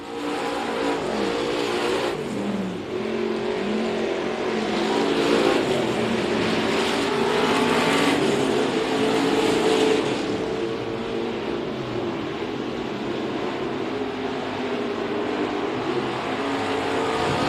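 Outlaw modified race cars roar past on the final lap at Kennedale Speedway Park. The loud engines swell as the pack passes, then hold a sustained roar as the cars carry on around the track.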